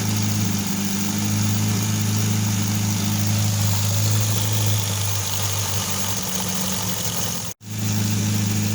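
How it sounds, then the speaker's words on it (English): A 1988 Nissan Sentra with an E16i engine idles steadily with a low, even hum, its idle speed drifting up and down slightly from an idle fault before a sudden brief cutout near the end. "Right now it's idling up and down."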